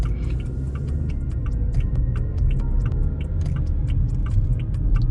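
A 2022 Haval Jolion releases from auto hold and pulls away, giving a low, steady engine and road rumble inside the cabin, with a run of light, regular ticking clicks over it.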